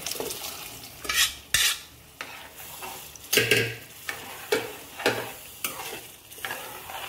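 A spoon stirs and scrapes through kabuli chickpea curry in a pan, with partly smashed chickpeas, in irregular knocks and scrapes over a soft steady sizzle. The sound is close and there is no talking.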